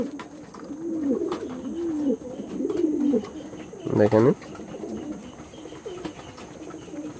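Andhra pigeons coo close by in a series of soft, rolling calls, with one louder burst partway through, while someone speaks over them.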